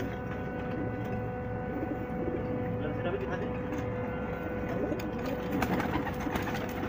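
Red Rampuri pigeons, large heavy birds, coo softly and repeatedly at close range over a steady background hum.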